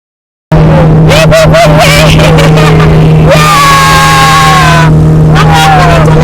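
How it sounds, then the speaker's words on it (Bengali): A speedboat's engine runs steadily with a constant hum and a rising whine, close by on an island boat trip, while people talk over it throughout. "ধরো আমাদের বোট চালু হয়ে গেছে।"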